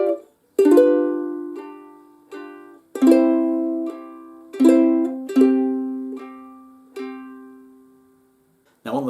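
Plucked ukulele chords of the second line of a 'Silent Night' chord melody ring out one at a time in a slow melodic line, each strum decaying cleanly before the next, close and clear with no talking.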